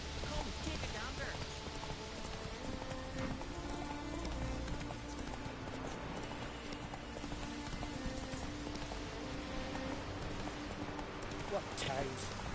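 Roach the horse clip-clops along in the Witcher video game, a steady hoof rhythm running throughout beneath a dense bed of game music and ambient sound, with a voice speaking over it.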